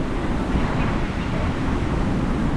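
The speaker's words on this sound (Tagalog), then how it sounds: "Napakalakas ng hangin" Strong wind on a seaside shore in Bucana during rain, a loud close roar buffeting the microphone, with a continuous rushing drone that may include surf and no clear voices.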